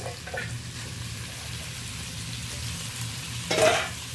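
Drumsticks, potato and eggplant sauté in a pan with a low, steady sizzle, then a short louder burst of stirring and scraping near the end.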